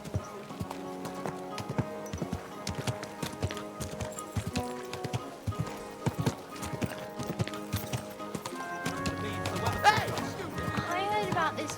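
Horse hooves clip-clopping in the medieval video game Kingdom Come: Deliverance 2, a steady walking rhythm with a snort or whinny near the end, under background music and a spoken voice.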